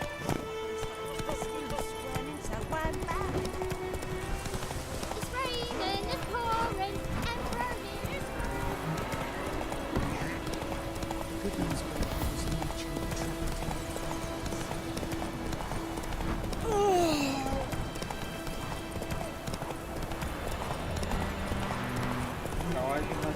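Hooves of the horse Roach clip-clop at a steady gallop in The Witcher 3, a continuous rhythmic run with occasional snorts, mixed under game music and effects.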